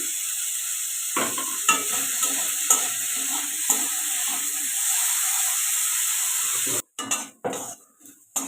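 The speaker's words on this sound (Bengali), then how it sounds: "আলুটাও আমার ভালো করে ভাজা হয়ে গেছে" Potato pieces fry in oil in a kadai with a steady close sizzle, punctuated by several scraping stirs of a utensil, followed by a few clattering knocks at the end.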